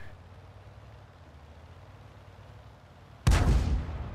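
A tank gun fires in a tank video game with an SU-85I in the battle: one sudden heavy boom near the end that rolls off, after a low steady engine rumble.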